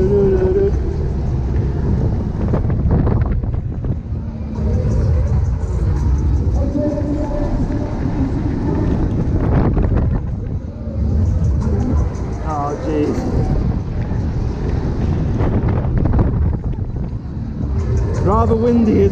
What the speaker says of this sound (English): Rather windy as well, as you've probably guessed from the audio.